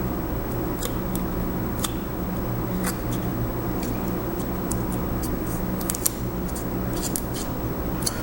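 Scissors cut during reballing work on a TV circuit board, giving a series of small crisp snips and clicks scattered over a steady low hum, close and fairly quiet.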